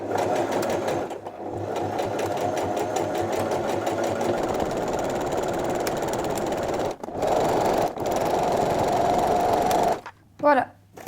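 Sewing machine stitching jersey fabric for trousers, a fast, close mechanical rattle running in long stretches with short pauses, and a voice speaking over it.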